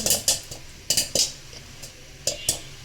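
Chickpeas roast in a pan, making a series of sharp, irregular taps and clinks that come in quick pairs, close and fairly loud, with a faint steady background.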